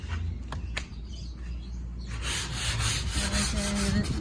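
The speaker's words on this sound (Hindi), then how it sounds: "ये रेगमाल है" Sandpaper rubbing old paint off wood, a steady close scratchy scraping that grows louder and denser partway through, with a few faint sharp ticks early on.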